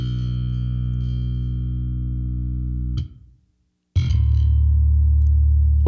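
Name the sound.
compressor plugin with harmonic distortion turned up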